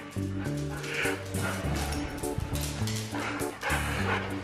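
A husky at a dog park gives a series of loud, close barks and yips in uneven bursts, with some whimpering between them.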